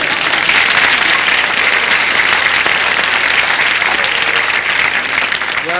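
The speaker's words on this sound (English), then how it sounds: "That was a kind of a joke that deserved applause." Studio audience applause on a television variety show, loud and sustained from start to finish as a dense, even wash of clapping.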